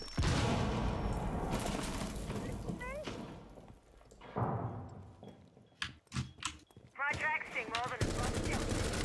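Gunfire in the tactical shooter Rainbow Six Siege comes in bursts and scattered single shots, with sharp cracks and mechanical clatter amid busy game noise, while players talk over it.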